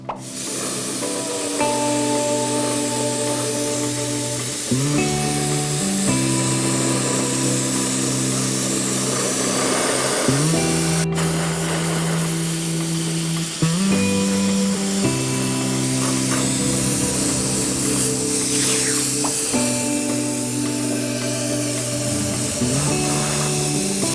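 An aerosol spray can hisses steadily while coating the sides of a rusty RC car body in a darker base color, a near, continuous spray broken by short pauses and restarts across the whole stretch.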